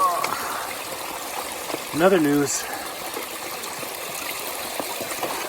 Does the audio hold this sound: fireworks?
no